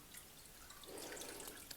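Dissolved cheese enzyme, diluted in cooled boiled water, is poured into goat milk for brynza cheese, giving a soft, faint trickle and dripping of liquid close by with no voices.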